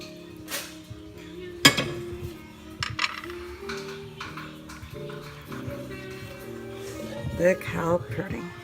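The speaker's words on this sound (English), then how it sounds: "Stir." A spoon stirs Cajun round steak gravy of sauteed garlic, celery and onion with chicken broth in a pot, giving scattered metallic clinks and scrapes against the pot while someone talks.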